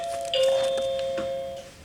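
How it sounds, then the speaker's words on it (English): A doorbell rings once indoors, a clear electronic ding tone that starts sharply and then fades slowly over about a second and a half. "the doorbell rang informing me that my dinner is here"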